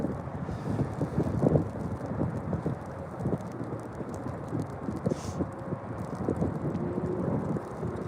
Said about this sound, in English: Wind, please stop for a few minutes.